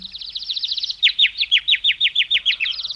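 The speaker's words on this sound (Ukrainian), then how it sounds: "високо-високо на гілочку дерева сіла пташечка та заспівала пісеньку своїм тонесеньким голосочком" A small bird sings in a thin, high voice: a fast run of rapid repeated chirping notes followed by a slower series of rhythmic downward trills, close and fairly loud, with no talking.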